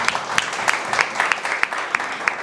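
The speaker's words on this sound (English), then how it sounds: "So a great round of applause for all of you also." Applause from an audience at a talk event, with rapid overlapping claps and sharper individual hand strikes standing out, moderately loud and close over a short stretch.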